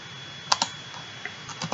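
Keystrokes on a computer keyboard: a few separate, quiet clicks and taps spaced irregularly over a faint background hum.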